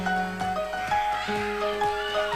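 Horses whinny and neigh amid a busy, tonal background, with faint hoof-like clip-clop and occasional sharp knocks throughout.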